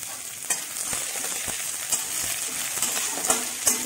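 Onions sizzle steadily in hot oil in a pan for a mixed vegetable curry, alone and close, with a few sharp spatula scrapes breaking through the crackle.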